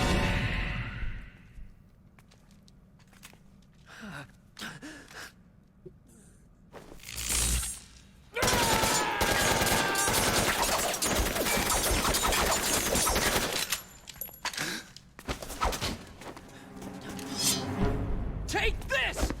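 Rapid gunfire in the game Metal Gear Solid: The Twin Snakes: bursts of shots and sharp cracks, sometimes sustained and dense, with people talking over and between them.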